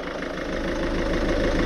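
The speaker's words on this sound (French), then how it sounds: "comme tu peux voir le moteur, il fait ça." The engine of a Ford Focus mk2 idles steadily after being started, a continuous close, loud mid-to-low rumble with no voices over it.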